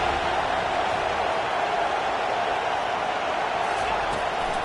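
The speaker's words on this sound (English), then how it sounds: "Decibels rising as the crowd gets behind this defense on third down." A football stadium crowd roaring at an NCAA game between TCU and FSU as the defense lines up on third down, a broad, steady wall of distant cheering that holds loud throughout.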